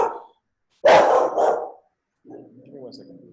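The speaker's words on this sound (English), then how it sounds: "Sorry about my dog." A pet dog barking indoors, a loud close bark followed by a second burst and then a softer, lower growling yap, with short silences between.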